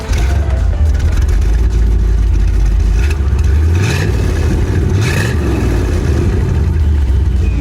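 A 1964 Corvette Stingray engine rumbles loudly and close, with a deep continuous roar and a couple of quick revs rising midway.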